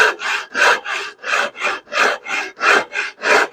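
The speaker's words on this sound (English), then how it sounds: "you rasp straight ahead" A hand rasp files the edge of a wooden stair spindle in long, steady back-and-forth strokes, about ten rhythmic rasping passes, close and loud, with no talking.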